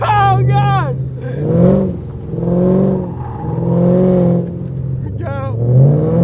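A 1,000-horsepower Shelby GT500 drifting, its engine revving in repeated rising and falling surges up close, with excited voices and shouts over the roar and squealing tyres.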